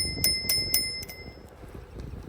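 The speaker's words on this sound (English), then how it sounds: "You can use the bell." Three quick, bright dings from the bell on a 14-inch folding electric bike ring out close by while riding, followed by fainter trailing rings over low road and motor rumble.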